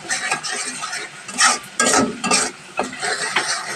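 Spices and salt are stirred and sautéed in oil for a tilapia fish curry with potato and pointed gourd, close spoon scrapes and clinks landing in uneven bursts over a continuous sizzle.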